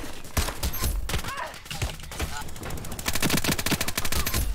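Bursts of MG3 machine gun fire in the online shooter Ironsight, loud rapid rattling volleys with a dense sustained stretch toward the end, mixed with other game gunfire and effects.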